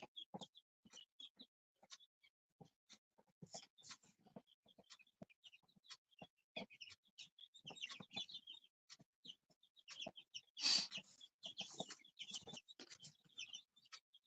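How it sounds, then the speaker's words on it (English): Free-ranging chickens cluck in short, scattered bursts, one call rising louder near the end, with occasional faint chirps over a quiet outdoor background. "Chickens are free grazing right now."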